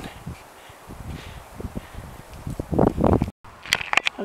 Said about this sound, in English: up above the clouds, a little bit of a wind